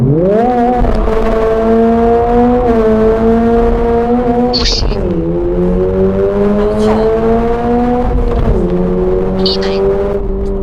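A BYD car with a 2.4-litre engine roars and climbs in pitch through several gear changes during a 0–100 km/h acceleration test, loud and close, while a person speaks briefly over it.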